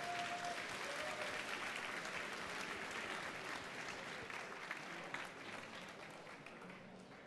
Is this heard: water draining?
no